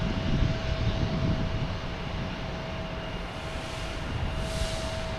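A JetBlue airliner taking off from Boston Logan for Orlando, heard as a steady, broad jet engine roar with a faint whine. It stays fairly constant at moderate distance, with no talking.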